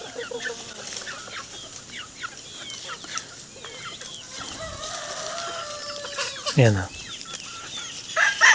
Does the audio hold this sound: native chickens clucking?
yes